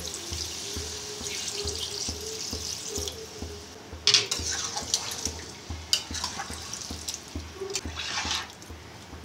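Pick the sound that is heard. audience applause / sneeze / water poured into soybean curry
water poured into soybean curry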